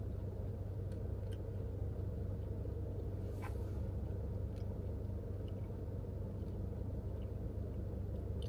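Inside a car stuck in slow traffic on the way to a beach in Charleston, South Carolina, a low, steady engine and road rumble drones quietly with no talking.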